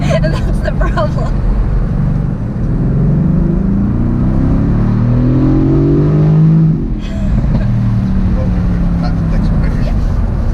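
A 2018 Mercedes-AMG GT C Roadster accelerates hard, its engine note loud and close, climbing in rising revving sweeps through the middle before easing off, with rumbling road and wind noise throughout.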